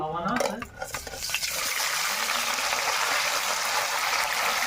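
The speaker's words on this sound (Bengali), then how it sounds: "কিন্তু আমি উল্টে পাল্টে ভেজে নিয়েছি" Stuffed bread rolls frying in hot oil and flipped in the pan: a few metal scrapes and clatters at the start, then a loud, steady, dense sizzle that fills the rest.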